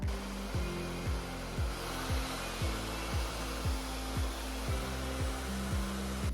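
A hair dryer fitted with a diffuser runs steadily while drying a fringe, a constant airy hum with a repeating low thumping pulse about every half second, moderately close.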